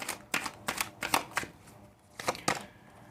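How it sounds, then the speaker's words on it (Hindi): Tarot cards are shuffled by hand in a quick series of crisp riffling bursts, close and fairly quiet, with a short pause partway through. "पहले आपके लिए निकालते हैं कार्ड्स।"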